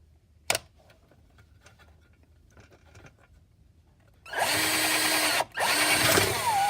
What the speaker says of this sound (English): I'm going to go with the 1/8 inch drill bit.